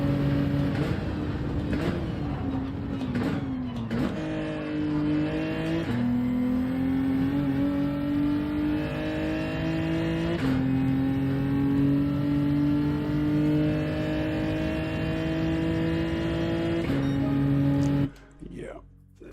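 A race car in Gran Turismo 7 lapping the Nürburgring, its engine holding a steady loud drone that climbs in pitch through the gears with short dips at each upshift, while someone talks over it.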